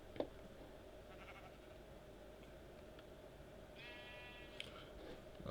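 Sheep in the Minecraft video game bleat faintly during outdoor exploring, with one short wavering bleat standing out midway over a low, steady background hum.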